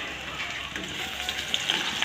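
Potatoes dropped into hot oil tempered with nigella seeds for a vegetarian dish set off a steady close sizzle and bubbling with small crackling spikes and no talking.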